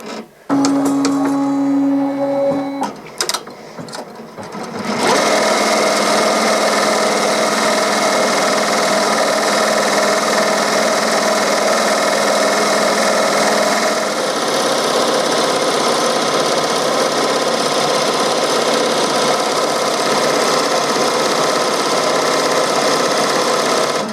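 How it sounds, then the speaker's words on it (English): Embroidery machine stitching a placement line on twill appliqué fabric, a steady loud mechanical whir and rapid needle rattle running continuously after a brief start-up, with no talk. "then we can start the embroidery"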